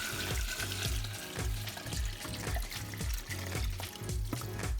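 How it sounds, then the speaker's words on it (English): A bucket of water is poured into an aquarium with botanicals in it, a steady nearby gush and splash with rhythmic sloshing pulses, heard alone. "So I'm adding my second bucket of water."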